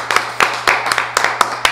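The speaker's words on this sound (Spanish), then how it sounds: "ustedes también se merecen un aplauso" Sparse hand clapping from a small group at an anniversary radio show, about a dozen sharp claps in a loose uneven rhythm, close and fairly loud, with a low steady hum underneath.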